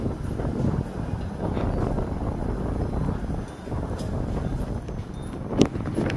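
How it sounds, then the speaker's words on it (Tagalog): Steady gusting mountain wind on the Great Wall roars against the microphone, a continuous low rumble with occasional buffeting bursts, no voices. "Tapos lakas pa ng hangin."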